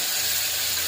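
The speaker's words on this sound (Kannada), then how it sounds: "ಈ ಪೇಸ್ಟನ್ನು ಬೆರೆಸ್ಕೊಂಡ್ಬಿಟ್ಟು ಚೆನ್ನಾಗಿ ಈ ಥರ ಫ್ರೈ ಮಾಡ್ಕೊಳ್ಳೋಣ" Ginger, garlic, cinnamon, clove and coriander leaf paste fries with onions and chillies in a pan, a steady bright hiss and sizzle filling the whole moment with no voices.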